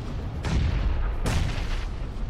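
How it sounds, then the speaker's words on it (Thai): Grenade blasts in a PUBG-style battle royale game, two broad booming bursts about a second apart over a steady low rumble of game noise, fairly close and loud. "ปาระเบิดมาพับนมพี่เดี๋ยวต้องปั๊มยา"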